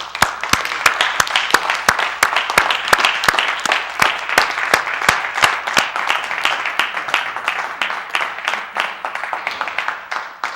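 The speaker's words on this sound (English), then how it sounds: "Give Mr. Yahuwah a hand clap." A crowd claps steadily for about ten seconds, dense applause with some sharp individual claps standing out, close and loud.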